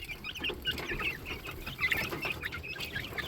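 Young chicks kept indoors against cold weather cluck and peep continuously, a busy overlapping chatter of small bird calls close by with a low shuffling background.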